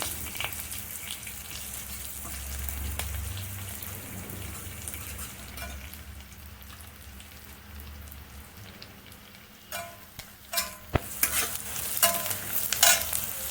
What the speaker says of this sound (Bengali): পেঁয়াজটা একটু নরম করে ভাজবো আমার নরম করে ভাজা হয়ে গেছে এবার এর মধ্যে দু তিনটে কারি পাতা দিলাম